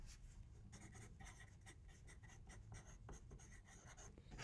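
A pencil scratches across paper in quick, repeated strokes while shading a figure drawing, a steady, close, quiet scraping rhythm with no talk.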